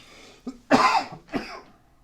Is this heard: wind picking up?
no